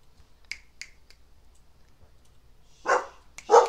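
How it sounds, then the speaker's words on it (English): Several sharp snaps early on, then two loud barks from two dogs close by near the end. "Gus and Daisy are barking their approval"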